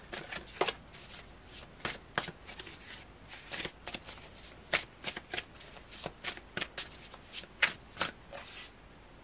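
Tarot cards shuffled by hand at a close, quiet table, a long run of crisp riffling bursts and soft slaps repeating in an uneven rhythm without talk.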